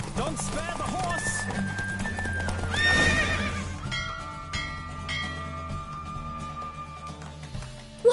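In The Witcher 3, a horse gallops during a race, with rhythmic hoofbeats and a whinny heard under game music and voices, fairly close and steady throughout.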